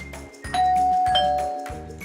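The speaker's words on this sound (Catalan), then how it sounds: "va sonar el timbre" A doorbell rings with a clear electronic two-tone ding-dong chime, sustained and fairly loud over a low rhythmic background hum.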